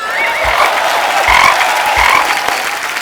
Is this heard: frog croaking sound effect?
yes